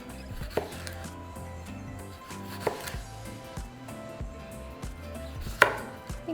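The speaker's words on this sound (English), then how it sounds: "now we can chop our potatoes. I like to remove the ends and just begin to slice them." Potatoes being chopped on a cutting board produce a steady run of close knife strokes, with a few sharper, louder chops standing out among the quieter slicing taps.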